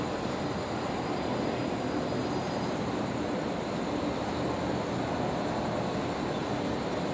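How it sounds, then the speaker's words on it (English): An Emirates Airbus A380 passing overhead near Brisbane Airport, a broad continuous rumble and roar that stays steady and loud for the whole stretch, with no voices. "Emirates A380 just flew over me."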